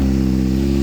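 Honda CBR600RR motorcycle, 2025 model, with a Moriwaki Zero slip-on exhaust, idling close by with a deep steady burbling hum and a short rise in revs right at the end.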